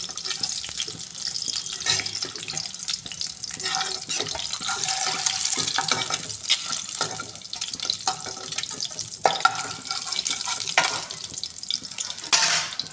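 Cut boiled eggs frying in a pan, an uneven sizzle with scraping stirs and a few louder clatters, close and moderately loud, no voices.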